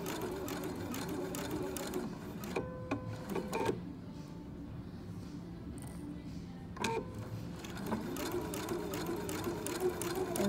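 An Epic 2 sewing machine stitching half square triangles, rapid steady needle chatter in two runs separated by a quieter pause with small clicks, close and clear.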